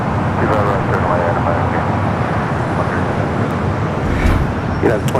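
A Swiss airliner taking off at Los Angeles airport gives a loud, steady jet roar that holds throughout, with a voice talking over it.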